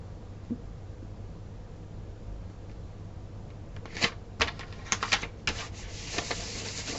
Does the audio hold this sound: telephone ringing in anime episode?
no